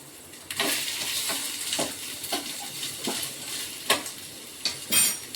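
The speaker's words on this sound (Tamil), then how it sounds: "இதில் வந்து தேங்காயை நல்லா வறுத்துக்குவோம்" Grated coconut roasting in a pan for black rice payasam, with intermittent scraping and stirring strokes over a quiet sizzle, several sharp clinks of a utensil against the pan near the end.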